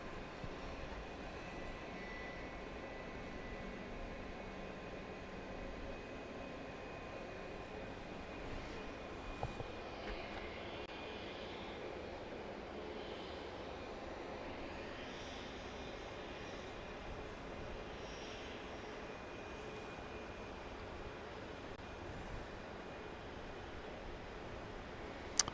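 Jet airliners approach Dallas Love Field at night, heard as a faint, distant, steady engine roar over an outdoor hum. The sound stays low and even throughout, with no talking.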